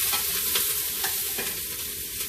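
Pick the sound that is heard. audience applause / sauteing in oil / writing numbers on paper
sauteing in oil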